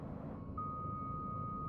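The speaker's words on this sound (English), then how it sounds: "That beeping sounds annoying." Missile warning in the space game DarkStar One, a single steady high beep tone that starts and holds continuously over a low engine hum.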